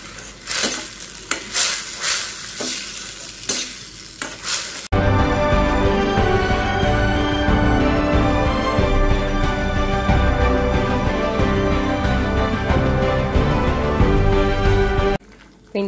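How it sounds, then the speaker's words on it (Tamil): Cornflour sauce for gobi manchurian bubbles and sizzles in a pan, with stirring scrapes early on, then a steady, dense cooking noise that runs on without pause. "இது நல்லா கொதி வரட்டும்."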